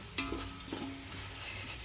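Onion, bay leaf, cloves, black cardamom and other spices and vegetables frying in pure desi ghee for vegetable pulav, a soft steady sizzle with a few louder stirring scrapes near the start.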